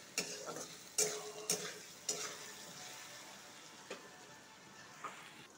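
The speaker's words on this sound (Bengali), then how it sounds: "আবার ভালো করে ভাজবো হলুদ নুন দিয়ে।" Potatoes fry in oil with salt and turmeric in a home kitchen, a soft steady sizzle broken by several sharp clacks of a utensil stirring the pan.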